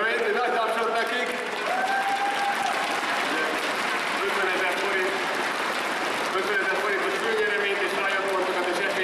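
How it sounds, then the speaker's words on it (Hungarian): An esports crowd applauds at the League of Legends EAST final at Mondocon 2014. The dense, steady applause fills the hall, and people talk and call out over it the whole time. "egy nagy tapsot nekik."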